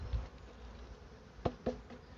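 Honeybees from a small swarm buzz steadily at a beehive, a continuous close hum with two sharp knocks near the end.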